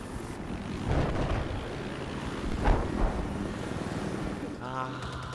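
Helicopter rotor and engine roar in the video game Battlefield 4, a steady droning wash with a few louder swells, mixed with game noise and someone talking over it.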